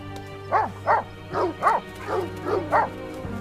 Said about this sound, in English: We're gonna head back the way you guys came, till them dogs pick up a fresh trail.